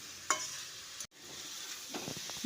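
Okra is stirred and fried over high heat in a pan, with a steady close sizzle broken by a sharp scrape or two of the spoon and a brief dropout in the middle.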